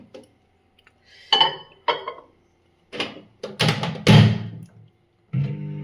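A metal pot is set down on a stove to heat water, heard as several separate clanks and thuds of cookware being handled and placed, close and irregular with short silences between.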